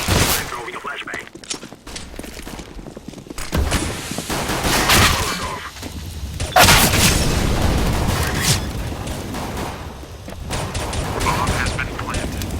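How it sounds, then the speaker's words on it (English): A flashbang grenade goes off in Counter-Strike: Global Offensive amid loud, continuous gunfire and booming explosions, with a dense, busy battle sound throughout. "I'm throwing a flashbang."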